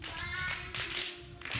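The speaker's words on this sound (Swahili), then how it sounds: "hebu clap for yourselves kila mtu." Several people clap together in a short burst of hand claps, steady and fairly close, with a brief pause before the clapping resumes.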